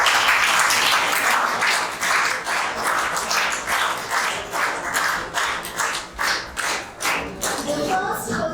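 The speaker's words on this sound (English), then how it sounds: "Kindly give her a big round of applause." Audience at an award ceremony for position holders claps in sustained applause, dense and steady throughout, swelling and easing in waves near the end.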